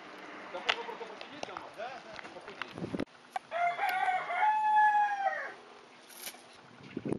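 A rooster crows loudly in a long, rising call, with hens clucking and a person talking nearby before and after.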